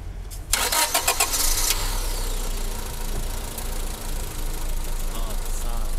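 A 1997 Honda Civic with a 1.4 engine cranks with a quick rattling starter burst and catches, then settles into a steady, loud idle heard up close.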